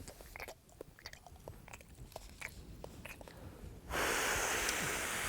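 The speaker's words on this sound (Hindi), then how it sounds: "कुछ नहीं, च्युइंगम चबाते हैं," Chewing gum is worked in the mouth with a series of soft, irregular wet chews and smacks close to the mic, followed by a sudden burst of louder broadband noise near the end.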